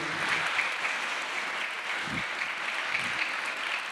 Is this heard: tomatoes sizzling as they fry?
no